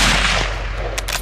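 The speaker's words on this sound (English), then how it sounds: "The gunshot rang out" A single hunting-rifle shot fired at a large tusked male wild boar, a loud broadband crack followed by a rumbling outdoor decay and faint trailing noise.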